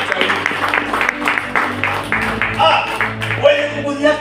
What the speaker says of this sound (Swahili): Tupigie Penina makofi.